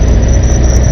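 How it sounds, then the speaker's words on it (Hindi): A car with its engine running draws near at night on a quiet road, a steady loud rumble holding throughout the short stretch with no voices. "कोई गाड़ी आ रही,"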